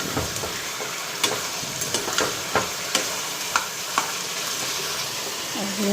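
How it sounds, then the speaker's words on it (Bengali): Potatoes frying until crispy in a pan at home, with a steady close sizzle and occasional sharp clicks from stirring, no voices. "আলুটা একদম কড়কড়া করে ভাজো।"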